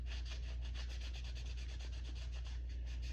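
A brush or rag rubs wood stain onto a laser-cut wooden centerpiece in quick, rhythmic strokes, a soft scratchy swishing over a low steady hum.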